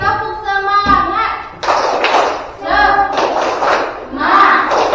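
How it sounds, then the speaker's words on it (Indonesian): A school class does the tepuk semangat spirit clap in a classroom, with bursts of rhythmic clapping and thumps that alternate with children chanting together, loud and close. "Oke, tepuk semangat."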